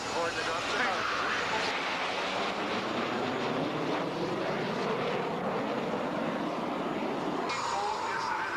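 An Aermacchi jet of the Italian Air Force at a 1998 airshow in Celje roars steadily overhead as a broad continuous rush, with an announcer talking over it.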